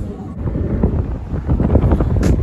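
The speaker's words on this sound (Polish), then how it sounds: "Ale wieje." Strong wind buffets the microphone outdoors on a boat, a loud, uneven low rumble that gusts throughout.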